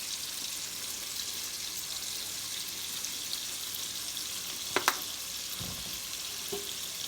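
Onions sautéing in a pan for charro beans give a steady, soft frying hiss throughout, with a few brief scrapes or clicks near the end and no talking.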